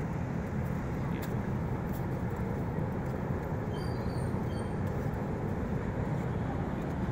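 A steady rumble of an LRT light rail train rolling past near the Binondo–Intramuros Bridge in Manila, continuous low roar with faint squeals, recorded at moderate distance.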